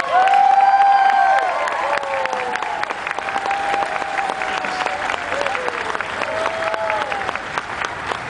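An audience at a pro-life gathering in Hawaii gives sustained, loud applause for Bishop Larry Silva, dense clapping with scattered cheers, strongest at the start then settling into an even roar for over eight seconds.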